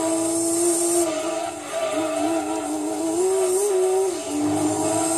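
A race car engine in Gran Turismo 2, likely a six-cylinder, drones and revs steadily, pitch rising and falling as it shifts, loud and continuous with no talking.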